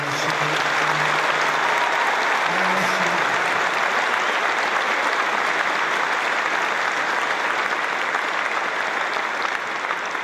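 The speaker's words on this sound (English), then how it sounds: "Let's give them a really special hand." A large crowd of troops at Al Udeid Air Base in Qatar applauds the Qatari armed forces: dense, steady clapping that stays loud and even for the whole stretch, with a faint voice briefly audible near the start.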